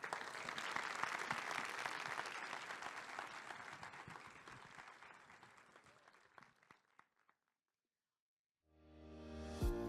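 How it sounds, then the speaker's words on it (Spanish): A conference audience gives a long round of applause, dense clapping that gradually thins and fades to near silence, followed by a loud tonal music sting at the end. "La despedimos con un gran aplauso."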